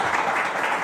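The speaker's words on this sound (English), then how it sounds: "Give her a nice round of applause." A short burst of audience applause greets a performer on stage at a radio theater show. It is a dense, even patter of many hands, moderately loud.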